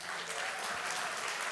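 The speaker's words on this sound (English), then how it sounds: "Come on, clap your hands and give him praise." A church congregation clapping their hands in praise, a continuous even wash of applause at moderate volume with no clear voices.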